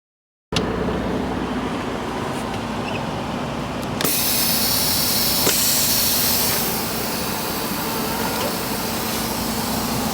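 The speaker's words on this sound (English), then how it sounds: "Pull forward at 5 miles per hour and check the service brake." A Class A truck creeps forward at about 5 miles per hour for a service brake check. Its engine gives a loud, steady broadband drone that brightens slightly partway through, with no voices.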